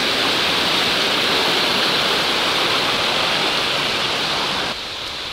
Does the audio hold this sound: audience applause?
no